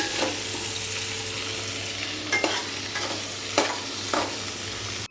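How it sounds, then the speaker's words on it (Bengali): Pointed gourd pieces sizzle steadily in hot oil, frying soft and browned with a little salt, with a few scraping stirs of a spatula cutting through the frying. "আলুর মতো সামান্য নুন দিয়ে নরম করে লাল লাল করে ভেজে নিচ্ছি"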